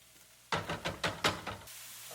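Ground meat with taco seasoning frying in a pan, heard as about a second of rhythmic stirring scrapes and short sizzling bursts over a quiet background, with no one talking.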